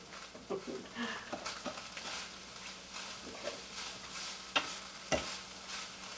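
Ground beef fries in a pan with a steady crackling sizzle, joined by scrapes and a couple of sharp clinks from a utensil.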